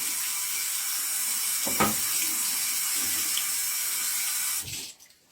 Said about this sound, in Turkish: Daha sonra dirseklere kadar kollarımızı yıkıyoruz.